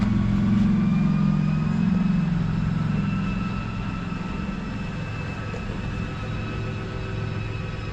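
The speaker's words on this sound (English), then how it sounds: "So simply press down on the switch and you'll hear the motor actuating." An RV slide-out motor on a Forest River Salem Hemisphere 310BHI travel trailer runs steadily as the room extends, a continuous low mechanical hum and whine that eases slightly partway through, with no voices.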